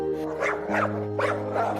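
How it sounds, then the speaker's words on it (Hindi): A cartoon dog barks loudly in a few sharp, close bursts over a steady musical drone, with no talk. "साहिल ने उड़कर उन लोगों की ओर दौड़ लगाई और जोर जोर से भौंका।"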